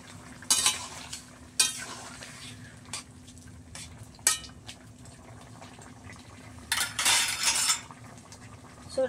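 Prawns drop into a hot frying pan and are stirred, with several sharp metal spoon scrapes and clanks against the pan over a low, steady sizzle and a longer burst of stirring toward the end.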